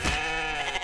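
In the video game The Infected, a goat lets out a single drawn-out bleat, nasal and wavering, heard close and loud with no talking over it.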